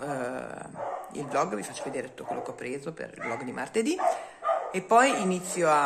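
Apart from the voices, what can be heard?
dogs barking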